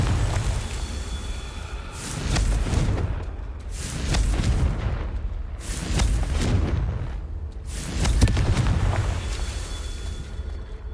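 Confringo fire spell blasts in Hogwarts Legacy go off as four heavy, booming explosions spaced about two seconds apart, each one loud and close with a rumbling tail.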